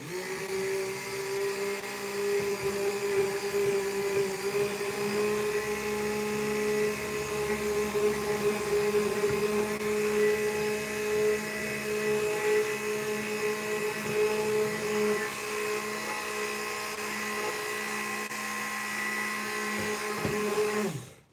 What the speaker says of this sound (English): I know it's the mixer because if I turn it on without the bowl in there, it will still make the noise.